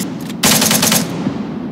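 Suppressing machine gun fire in a combat video game: a dense, loud burst of rapid automatic shots that starts abruptly and keeps rattling close by, with no speech.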